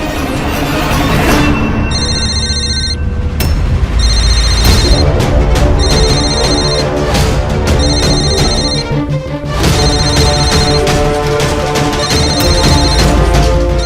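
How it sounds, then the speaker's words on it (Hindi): A telephone rings in repeated electronic bursts over loud, busy background music, the trilling pattern recurring several times. "किसका फोन आ रहा है?"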